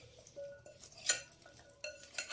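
A spoon stirs flour into a fries batter in a bowl, making a few soft scraping clinks and swishes, close by and quiet.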